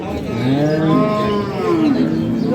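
An improved-breed dairy cow at the Ambari village cattle market, sold with her calf, lets out one loud, long, close moo that rises and falls over a low hum of crowd noise.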